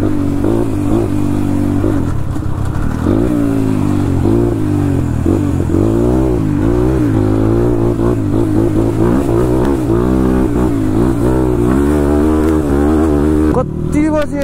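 A motorcycle ridden hard through mud and water on a rough track, its engine revving and surging continuously at close range, with brief throttle bursts and a rougher clatter near the end.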